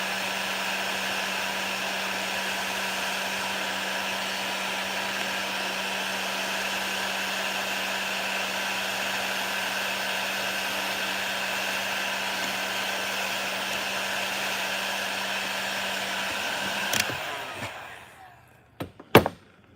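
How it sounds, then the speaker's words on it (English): Hot air blowing steadily to shrink heat shrink tubing, a constant close whooshing hum for most of the stretch before it cuts off, followed by a few sharp knocks and clatters. "I'm gonna heat up this heat shrink."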